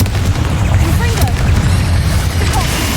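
Fire-spell blasts from Confringo in Hogwarts Legacy, a dense, continuous rumble of booming explosions with crackling bursts layered over one another, loud and close throughout.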